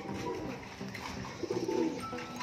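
Soft, low pigeon cooing murmurs close by, a throaty rolling call that swells near the end over a faint background hum.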